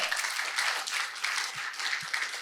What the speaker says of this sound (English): Okay, yes, clap for him.